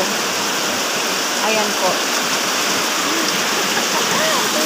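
Very heavy rain pours down beside an overflowing canal, a loud, unbroken roaring wash of water, while someone speaks briefly over it.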